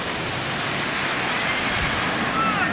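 Steady roar of surf at Kailua Beach, Hawaii, on a rainy day, a dense unbroken wash of breaking waves close by with a faint hiss of rain and a touch of wind over it, no voices.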